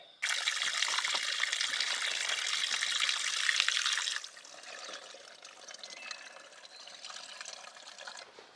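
Water trickles and splashes steadily at a water source beside the Appalachian Trail, fuller and brighter for the first few seconds, then a softer, thinner flow continues alone.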